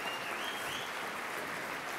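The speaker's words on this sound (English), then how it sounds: "let's just give him a big round of applause for a happy birthday" Audience applause for a 30th birthday at a company event, a brief burst of steady clapping heard from some distance.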